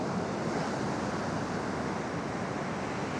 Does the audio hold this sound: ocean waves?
yes